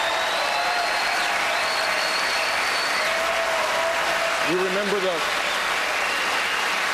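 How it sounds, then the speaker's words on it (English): Audience applause rises for Jeb Bush at a Republican debate, a broad, sustained wash of clapping from a large crowd, with a voice speaking over it briefly. "There's a big applause line for Jeb because he kept us safe"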